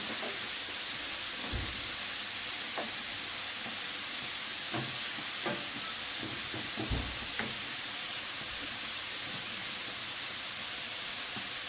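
Ghee melts and sizzles in a pan, a constant hiss from close by, with a few soft knocks and clicks scattered through it.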